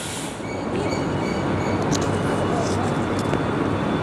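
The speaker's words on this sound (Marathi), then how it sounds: "हे बघा इकडे ही AC लोकल आलेली आहे मित्रांनो" An AC local commuter train rolls past at close range, a loud continuous rumble of wheels on rail with faint squeals and clatter running throughout.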